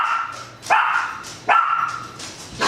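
A frightened little dog gives three sharp, loud yapping barks spaced about a second apart, close up, with short whiny tails between them.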